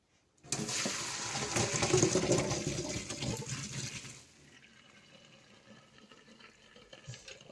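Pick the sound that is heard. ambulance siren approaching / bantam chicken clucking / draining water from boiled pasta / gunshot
draining water from boiled pasta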